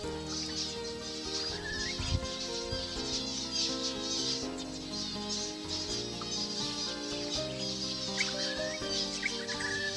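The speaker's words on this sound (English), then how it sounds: "Just look at the number of young finches amongst this flock perched in this tree above water" A large flock of wild zebra finches, many of them young, perches in a tree above water in southwest Queensland, keeping up a dense, continuous chatter of overlapping high chirps and calls.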